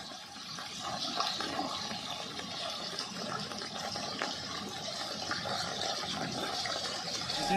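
Floodwater from a breached Mahau canal embankment in Maharajganj, Uttar Pradesh, after days of continuous rain, pours out in a steady, broadband rush that holds at an even level from start to finish, with no voices.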